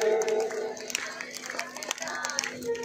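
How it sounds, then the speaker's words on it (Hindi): An audience at a devotional Meera Bai gathering claps together in a short, close burst, uneven hand claps mixed with voices and some chanting. "सभी तालियां बजाएं।"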